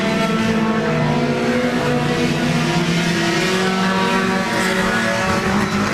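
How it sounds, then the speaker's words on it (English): Race cars roaring around an oval track at Laird Raceway during a Thursday Night Thunder enduro, a loud sustained engine drone with steady revving harmonics, close and continuous, with no voices. "Leaders coming to put a lap on the 86 of Mortimer."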